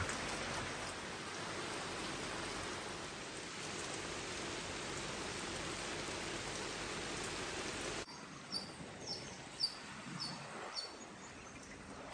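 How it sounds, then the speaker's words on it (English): A heavy, steady downpour of rain in the Bay of Islands hisses for about eight seconds, then stops abruptly, leaving quieter dripping and faint birdsong. "We continue to have some heavy downpours."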